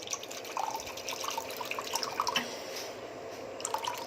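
Water runs into a cup as half a cup is filled, giving a close, steady trickle scattered with small drips and splashes, moderately quiet and with no voices over it.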